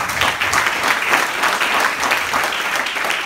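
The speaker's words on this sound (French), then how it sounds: "qu'on peut applaudir bien fort." Loud, close applause from a school audience at a ceremony for the Island Games flame, clapping for a student swimmer, dense and continuous throughout the clip.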